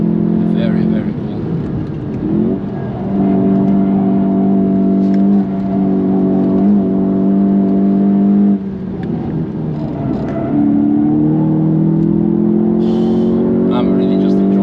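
A track car's engine drones loudly and close while lapping a circuit, holding a steady tone, dipping briefly on a gentle lift partway through, then pulling again with a rising note.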